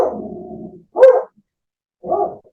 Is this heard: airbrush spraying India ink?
no